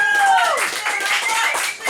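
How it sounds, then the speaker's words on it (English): Audience applause breaking out on a radio or stage show, short burst of clapping mixed with cheers and voices, fairly close and fading after under two seconds. "Give him a round of applause."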